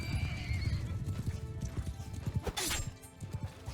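Cavalry horses charge in a video game battle, with dense galloping hooves and a horse whinnying over a loud, steady din of battle noise and a brief crash-like burst.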